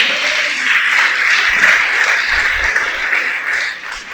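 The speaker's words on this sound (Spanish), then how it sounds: "Dale un aplauso." Sustained applause from a congregation during a Shabbat sermon, a steady dense wash of clapping filling the room at moderate loudness, with no speech over it.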